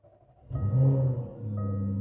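A 2017 Jaguar F-Type restarts: a brief starter whirr, then the engine catches with a loud flare and settles into a steady idle.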